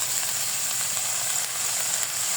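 Yardlong beans with shrimp, salt and turmeric sizzle steadily in a pan, a close, continuous frying hiss with no pauses.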